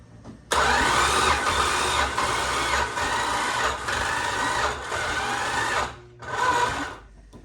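A tired, neglected old Chrysler Slant Six engine cranks on the starter during a compression test, giving several loud, rhythmic churning bursts separated by short pauses, with a final brief burst after a gap.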